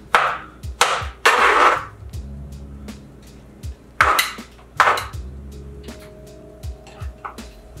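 Quick knife chops through a wild quail on a cutting board, a run of sharp loud thwacks spaced unevenly with clattering board knocks between them.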